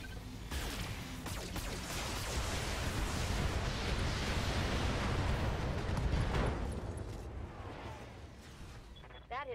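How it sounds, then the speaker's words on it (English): A mech in the Battletech video game fires a full weapon salvo: a long, rumbling roar of overlapping blasts and explosions that swells and holds for several seconds, then fades, with a few sharp clicks at the end. "Firing a full salvo."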